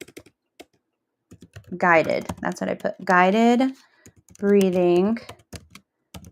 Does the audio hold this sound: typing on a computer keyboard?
yes